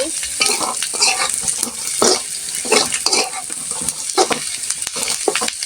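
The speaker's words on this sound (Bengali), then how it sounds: "এখানে এই যে আলু পেঁয়াজ ভেজে নিচ্ছি" Potatoes and onions fry in a pan beside already-fried chicken, a dense sizzle broken by repeated scraping stirs of a utensil against the pan, close and steady with no talking.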